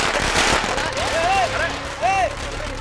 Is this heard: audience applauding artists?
no